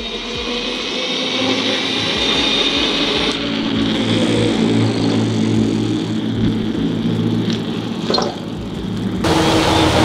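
A CYC Photon mid-drive motor on an e-bike accelerates, making a steady, fairly loud whirring hum mixed with road and wind noise that holds for about ten seconds, with a slight change in tone partway through.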